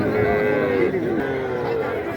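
A calf or cow bellows in a long, low moo at a busy Bangladeshi cattle market before Eid al-Adha, close and steady for about two seconds over crowd chatter and voices.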